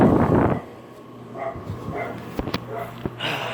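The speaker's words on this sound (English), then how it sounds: "I hate it when dogs bark at me." A dog barks a few short, sharp times at a moderate distance, spaced irregularly over a quiet background with some low handling noise at the start.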